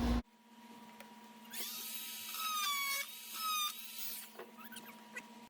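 A high-pitched rotary cutting tool whines while trimming a plastic hook off a Whirlpool/Kenmore washer console, running in two close, loud bursts that rise and waver before cutting out, followed by a few faint handling clicks.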